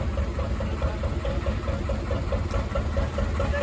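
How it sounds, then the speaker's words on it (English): Steady idling engine of a Canal and River Trust historic canal boat, a low rhythmic mid-pitched chug with regular pulses, close and continuous with no talk. "This is the Canal and River Trust historic boat."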